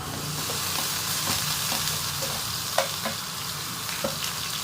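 Garlic sizzles as it fries in a pan, a steady close-up crackle of hot oil. A few light clicks of the spoon come through now and then as it is stirred.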